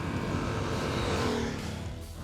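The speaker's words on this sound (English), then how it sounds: "It's very quiet, and to be honest, it is a little underwhelming. It doesn't have that signature Harley-Davidson sound." A 2022 Harley-Davidson Sportster S engine revs briefly, a fairly quiet, smooth rising and falling drone with a throaty low rumble that tapers off near the end.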